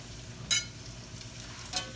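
Almond crusted tilapia frying in hot oil in a pan, a faint steady sizzle with two brief louder bursts of crackling as the fillets are moved.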